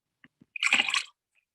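A single short splash of water with a few faint drips before it, quiet and alone, used as a sound effect in a told story about a creature playing with tiny fish.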